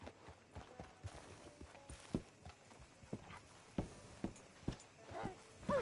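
Horse hooves clip-clop on the ground in the Red Dead Redemption 2 western video game, a series of uneven, separate thuds at close range, quiet, with faint ambient noise between steps.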